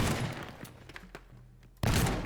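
Gunfire in the Teardown video game shooting up debris, a dense burst of shots at the start, quieter scattered impacts and crumbling in the middle, then another loud sustained volley at the end.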